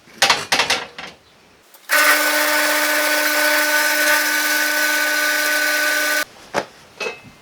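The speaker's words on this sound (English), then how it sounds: "Time for some more drilling." A power drill whines at a steady high pitch for about four seconds, drilling into a lawnmower go-kart, framed by sharp clicks and knocks of handling before and after.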